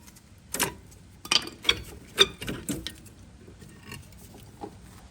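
Old rear brake pads come out of a 2000-2006 Chevy Tahoe's caliper bracket, giving a handful of close, sharp metallic clicks and clanks, scattered over a few seconds with quiet gaps between.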